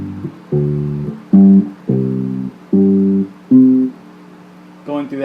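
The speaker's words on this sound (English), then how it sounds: "First of all, I'll show you the Arpeggio Method, which goes something like this." Bass guitar arpeggiating a power chord, five or six deep, sustained notes plucked one at a time in a slow even rhythm, close and fairly loud, alone.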